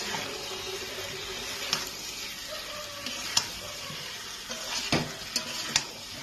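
Pointed gourd and pumpkin pieces fry quietly in a pan, with a soft steady sizzle and a few sharp clinks and scrapes of a spatule stirring, no voice present.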